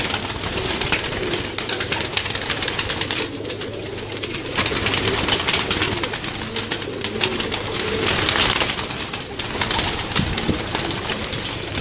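A flock of flown pigeons held inside a loft fills the space with dense, overlapping cooing and rustling, loud and close throughout with a rough, busy texture.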